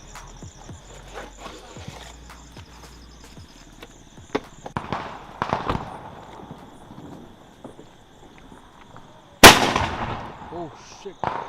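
Spicy Stars aerial firework launched during a Diwali celebration, bursting with one sharp loud crack late in the clip and a crackling tail, after scattered smaller pops and background clatter.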